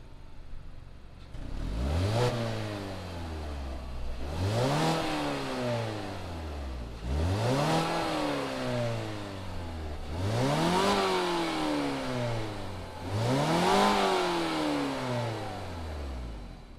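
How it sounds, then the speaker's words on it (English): A 2019 Mazda 3 AWD hatchback engine starts, then revs up and settles back five times in a steady rhythm, each rev rising and falling in pitch, heard close and loud with no talking. "But why don't we go ahead, fire it up,"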